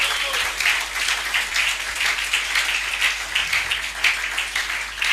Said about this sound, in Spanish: Un aplauso al Señor ahora.